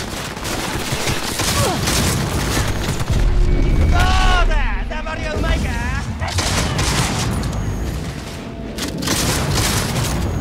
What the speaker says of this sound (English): Actually, the shotgun is electric.